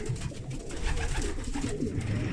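Pigeons coo softly in an enclosed loft, a low rolling murmur of several racing pigeons with faint rustling, no talking, on basketing day before a 345 km race.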